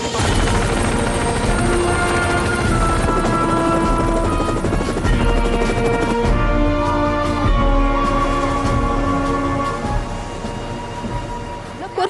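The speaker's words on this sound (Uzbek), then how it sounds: "Men vertolyotda uchaman" A helicopter's rotor thrums loud and continuous for the whole stretch, mixed with a dramatic film soundtrack.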